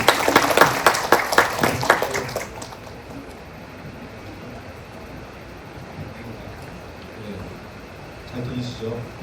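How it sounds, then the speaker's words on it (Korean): An audience claps to welcome a speaker at a school facilities forum: a burst of applause for about two seconds that fades into quiet room noise. "큰 박수로 환영해 주시기 바랍니다"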